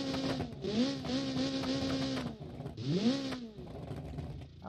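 Race car engine in a video game revving hard with a side exhaust, rising and falling in pitch through gear changes, a long sustained pull followed by a second sharp climb, loud and close with no talk.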